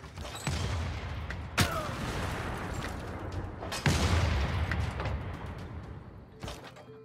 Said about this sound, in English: I could annihilate this field cannon corps right now with this artillery.